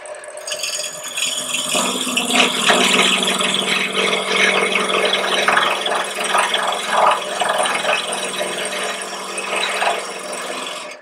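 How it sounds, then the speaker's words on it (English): A lathe parting tool cuts a rebate into a spinning wooden box base, giving a loud, continuous rasping, rattling scrape that swells and fades slightly over about ten seconds. "I'm going to create a rebate in the base and a tenon on the lid that will fit inside of that for fitting the lid."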